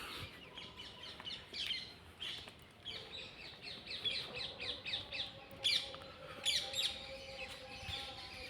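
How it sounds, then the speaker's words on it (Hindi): Birds chirp and tweet in a quiet garden at Raskhan's samadhi in Gokul: rapid, repeated small calls with occasional sharper squawks, fairly faint and a little distant, no talking. "चिड़ियों की आवाज़"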